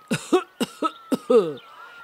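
A short series of raspy, throaty coughs, five or six quick bursts close up, ending in a longer strained rasp, like a voice imitating a coughing creature.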